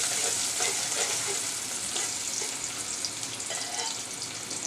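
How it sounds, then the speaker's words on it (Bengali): Softened chopped onion sizzling in hot oil while being stirred in a pan for a tilapia dish; steady close frying crackle with occasional scraping stir strokes, no voices. "একটু পেঁয়াজটা নরম ভাজা হয়ে এসেছে।"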